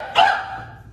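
A dog gives one short, sharp bark close by, loud and clear, then it fades quickly into quiet with no talking.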